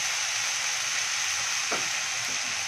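Vegetable sabji, dill leaves with moong dal, frying in a pan, a steady close hiss of sizzling with a brief scrape of stirring near the end, no talking.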